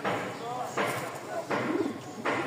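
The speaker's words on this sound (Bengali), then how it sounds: "এখন একটু ভালো মানের কবুতর দেখাই," Pigeons coo nearby in several soft, repeated bursts while someone talks over them; the birds are budget racing and flying pigeons being shown for sale.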